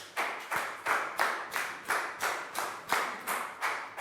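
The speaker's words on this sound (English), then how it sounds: "Big round of applause for Pat." A small classroom group claps together for a student in a Year 3 lesson, about a dozen sharp unison claps in a steady, even rhythm, close and clear.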